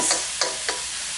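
Tomatoes cook down in a pan for Kerala-style egg curry, with a bright, continuous sizzling hiss broken by three brief stirring scrapes close by.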